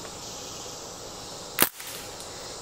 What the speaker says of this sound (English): This is just a regular .177 BB gun. It's CO2, so it's not like lever cock or anything.